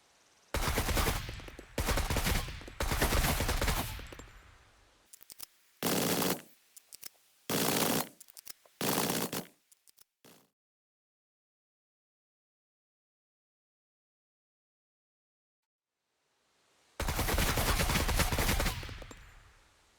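An AK rifle firing 7.62 ammunition at a flag in the SCUM video game: loud, close strings of rapid automatic bursts for about ten seconds, a long silence, then another sustained burst.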